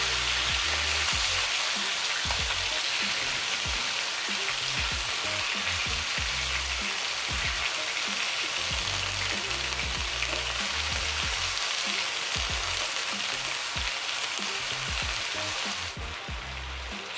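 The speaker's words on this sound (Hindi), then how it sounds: "कीमा इसमें डाल देंगे। और इसको अच्छी तरह से ऑयल में डाल के भूनेंगे" Minced chicken fries steadily in hot oil, a dense continuous sizzle with crackling pops and occasional stirring scrapes, loud and close throughout with no voices, easing slightly at the very end.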